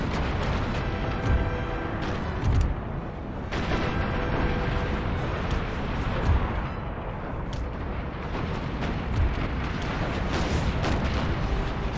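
Naval battle in the game Empire: Total War, with dense, continuous rumbling ship cannon fire and heavy booms layered over one another. Sharper blasts punch through regularly, loud and close, with no voices.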